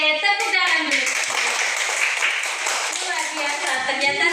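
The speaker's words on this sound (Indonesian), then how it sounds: "Oke, tepuk tangan dulu." Classroom students clap their hands together in a brief burst, with children's voices talking and calling out over the clapping throughout.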